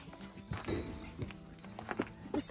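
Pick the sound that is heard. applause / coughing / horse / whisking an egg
horse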